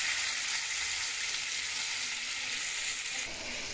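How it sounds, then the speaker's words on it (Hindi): Chicken shashlik pieces frying on a medium flame, a loud, dense, even sizzle that drops a little in level near the end. "मीडियम फ्लेम पे इनको अंदर रख लेंगे और दोनों साइडों से अच्छी तरह से इसको फ्राई करेंगे।"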